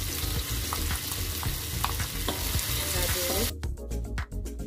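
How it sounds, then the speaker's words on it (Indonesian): Half-cooked anchovies tipped into a hot pan with oil, bruised lemongrass and wilted aromatics sizzle and fry steadily, with stirring clatter throughout before the sizzle drops away near the end. "Kemudian masukkan ikan teri yang telah goreng setengah matang."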